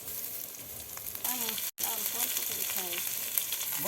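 Spice paste sizzling and frying steadily in a pan for a potato and pointed gourd curry, with occasional stirring scrapes and a brief break in the sound.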